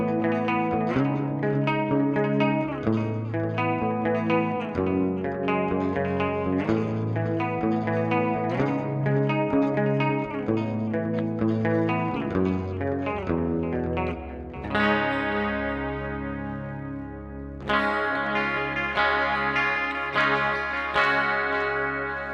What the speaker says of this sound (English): Let's push in some reverb. Let's go all out. Let's do the delay too.